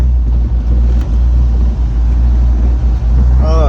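A 1996 Ford Mustang with a swapped engine rumbles loudly and steadily on its first test drive, heard from inside the car, with heavy low drone and periodic thumps throughout.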